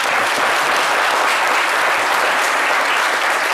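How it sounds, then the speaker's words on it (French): Loud, dense applause from a studio audience on a French midday television show, steady and unbroken throughout with no talking over it. "on va t'applaudir très fort."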